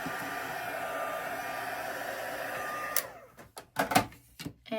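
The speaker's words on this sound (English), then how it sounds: "I'm going to blast this with some air here. We've just got a spot that's a little wet." Air blasted from a hair-dryer-style blower to dry a small wet spot on wood, a steady whirring rush lasting about three seconds, then switched off with clicks and handling noises following.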